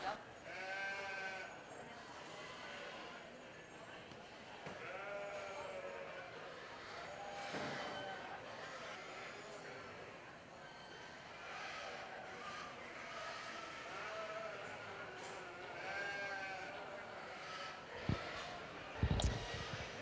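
Ewe lambs bleat repeatedly in a show ring at a market lamb livestock show, heard under steady talk from a judge over a loudspeaker, with the hubbub of the hall.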